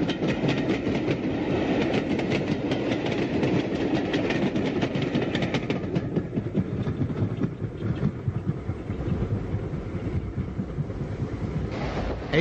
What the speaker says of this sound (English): a Liverpool to Cardiff Express, hauled by Black 5 44683, heads towards Whitchurch